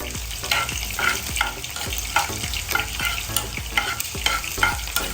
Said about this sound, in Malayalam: അപ്പോൾ നമുക്ക് ഇനി ഇത്തിരി വറ്റൽമുളക് ഇട്ട് കൊടുക്കാം